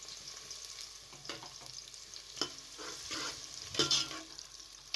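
Onions sizzle in hot oil in a pressure cooker while a utensil stirs and scrapes, producing brief clinks and a steady crackle up close.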